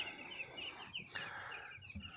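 Newly hatched quail chicks peep in quick, high, repeated chirps, fairly close, with soft rustling underneath.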